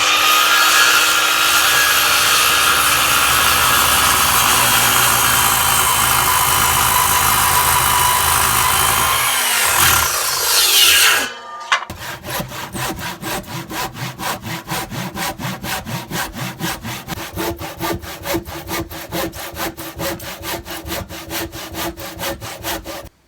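Hand saw cutting wood while roughing out a shaving horse bench: a long smooth rasping cut that slows and stops, then after a brief pause fast, regular back-and-forth saw strokes, loud and close.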